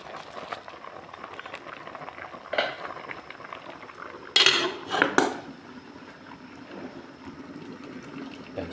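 A fish soup with okra simmers and bubbles quietly in a pot, broken by a few sharp metallic clanks as the lid is set back on, then the low boiling continues.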